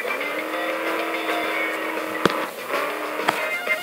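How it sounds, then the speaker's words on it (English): Truck engine in the Hill Climb Racing game, a buzzy revving drone with sharp clicks and bumps from the game as the engine pitch shifts up and down. "This truck is a beast."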